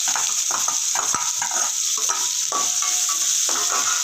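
Onions sizzle steadily in hot oil in a pan, with occasional scraping and stirring knocks from a utensil, close up.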